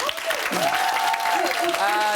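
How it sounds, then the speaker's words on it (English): Studio audience applauding on a Big Brother UK 2014 spin-off show, steady clapping filling the room for about two seconds with a voice speaking over it. "Give him a round of applause, guys."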